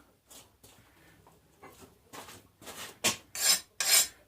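A file rasps across a forged farrier-rasp knife in a series of strokes, starting soft on the non-hardened spine and growing louder and harsher in the last few passes on the hardened blade edge.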